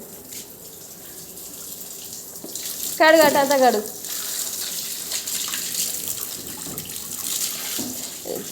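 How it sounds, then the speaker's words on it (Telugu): Water runs from a household tap as a steady, soft splashing hiss that continues throughout. A person speaks briefly over it near the middle. "అదే వినిపించుకోవేంది, అక్కడ నీళ్ళు పోతున్నాయి"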